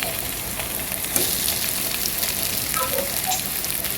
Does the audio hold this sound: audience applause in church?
no